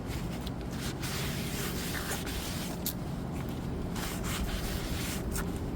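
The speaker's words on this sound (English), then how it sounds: "take your brake cleaner and spray the rotor down and wipe it down with a paper towel" A steady, loud hiss of brake cleaner spraying onto a front brake rotor of a 2007 Hyundai Veracruz blends with scrubbing and rubbing of a paper towel, continuous throughout.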